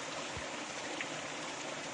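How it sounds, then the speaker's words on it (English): Autumn creek flowing steadily, a soft, continuous rush of running water with no voices, faint and even throughout. "You guys can watch this water and listen."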